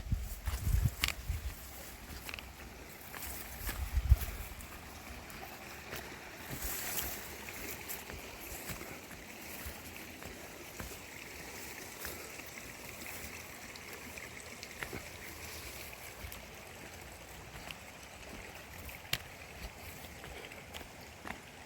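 A clear river flows steadily at a crossing on a solo hike near Ndarungan, Probolinggo, East Java, by Bromo. The rush is continuous and moderate, with a few low thumps early on and no talking.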